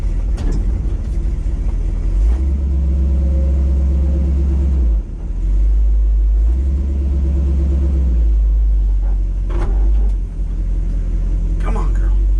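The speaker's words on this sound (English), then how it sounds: "Oh no, it won't do a burnout." A ramp truck's engine revs hard and loud close by during a failed burnout attempt, a deep continuous rumble that surges and briefly drops out twice, with a voice faintly over it.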